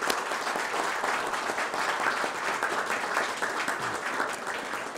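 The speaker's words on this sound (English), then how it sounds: "Please give them a round of applause and thank them for their service" Audience at a veterans recognition breakfast gives a sustained round of applause for veterans, steady, even clapping from a roomful of people throughout, with no talking.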